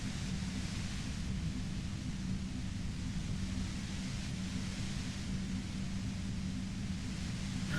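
Steady hissing static in the Disco Elysium video game, a continuous broadband noise with a low rumbling undertone that holds unchanged for several seconds.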